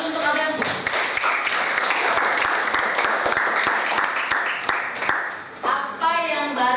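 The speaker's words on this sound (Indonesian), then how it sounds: "Tepuk tangan dulu untuk Abel." A classroom full of people applauds steadily for several seconds, dense clapping that thins briefly near the end as a voice starts to speak over it.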